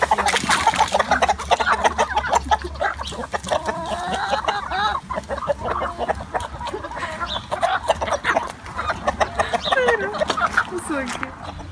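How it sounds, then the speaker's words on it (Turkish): A flock of a neighbour's backyard chickens clucks busily and continuously nearby, with overlapping squawks and cackles, loud and close throughout. "Birkaç günde bir komşumun tavuklarına veriyorum."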